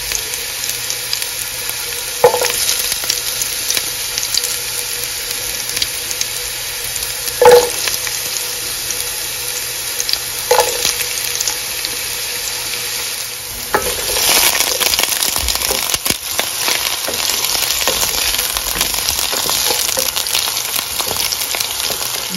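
Carrots sautéing in a pan, a steady low sizzle with a few spatula knocks early on, then louder, busier frying and stirring for the second half, close and without speech.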